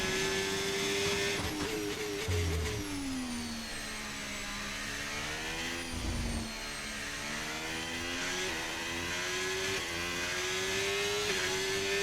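An F1 racing car in a video game screams up through the gears, its engine pitch climbing and dropping with each shift, loud and continuous throughout.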